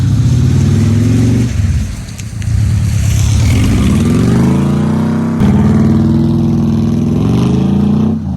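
A VW Synchro van engine revs up and down on an iced road in an Oregon ice storm, its pitch climbing and sagging as the wheels spin, loud and close throughout.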